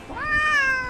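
A cat gives a single clear meow, rising then holding a steady drawn-out tone for most of a second, close and fairly loud with no talk over it.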